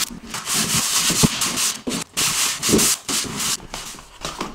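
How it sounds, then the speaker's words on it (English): Luxury vinyl plank flooring edges are sanded by hand with a drywall-style sander, giving close, rhythmic rasping strokes that scrub back and forth with short pauses between them. "I'll just sand the outside by hand. It's just like a drywall or paint sander."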